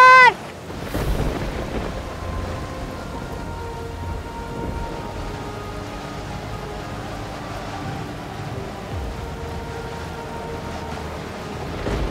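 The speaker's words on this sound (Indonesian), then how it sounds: "Ini kan hujan badai." A steady downpour of rain with the low rumble of a thunderstorm fills the scene, a constant dense hiss after a brief tonal sound at the start.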